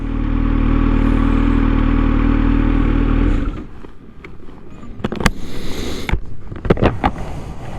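A Kawasaki ZH2 SE motorcycle on a ride, its engine droning loud and steady for about three seconds before dropping off into quieter rumble broken by sharp clattering bursts and pops.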